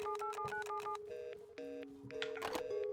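Telephone keypad dialing in the survival video game Rust: a quick series of short DTMF tones beeping in a steady rhythm, followed by longer sustained electronic tones, all clear and close with no talking.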